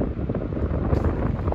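Strong wind blowing outdoors on a road trip through the Spiti region, buffeting the microphone with a constant loud low rumble and gusty roar and no talk.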